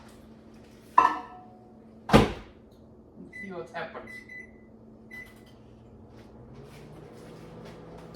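Chocolate crosses go into a microwave: two sharp door thuds, then a short run of electronic keypad beeps and a faint low hum, with brief talk near the start.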